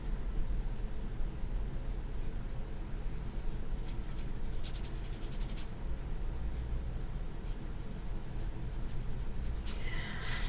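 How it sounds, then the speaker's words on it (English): A paintbrush sweeps blue paint across paper during a painting lesson, producing a steady, close, soft scratchy rubbing that continues without pause. "we're going to paint the whole paper blue."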